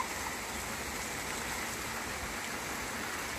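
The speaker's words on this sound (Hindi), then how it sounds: "बहुत ही ज़बरदस्त बारिश है" Heavy rain pours in Qatar and water runs beside it, a dense, unbroken hiss and rush that holds at an even moderate level throughout, with no one talking.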